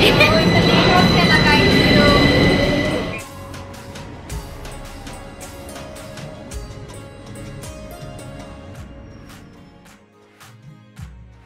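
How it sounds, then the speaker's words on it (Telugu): A loud train rumble in Walthamstow, UK, that cuts off abruptly, followed by quieter rattling and clicking of rail cars with scattered voices in the background. "ట్రైన్ మళ్ళీ పోయింది"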